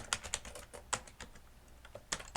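Computer keyboard typing in bursts of quick, close key clicks with brief pauses, heard alone without speech.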